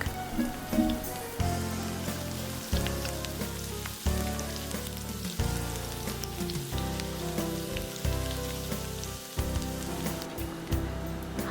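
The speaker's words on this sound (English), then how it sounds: "to a heated pan, add 2 tablespoons of coconut oil, 1 tablespoon of sliced garlic" Sliced garlic hitting heated coconut oil in a pan, a dense close sizzle with popping crackles throughout, steady and fairly loud, accompanied by a low background hum and occasional soft clanks, with no one speaking.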